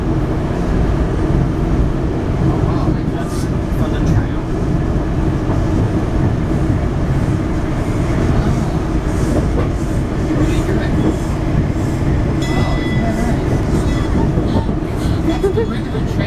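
A regular train at Oceanside passes very close, a loud continuous rumble of wheels and rail clatter with rhythmic clicking that fills the whole stretch, with people talking underneath.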